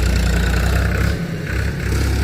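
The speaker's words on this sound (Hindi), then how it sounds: "यहाँ पे देख सकते हैं ट्रैक्टर जा रहा है।" A tractor on a rural road, a loud close low engine rumble with a steady throb, dipping briefly midway before returning, with no voices.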